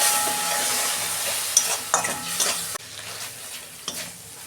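Chili powder and turmeric sautéing in a pan with a little water, a steady close sizzle broken by a few sharp scrapes and stirs, quieting partway through.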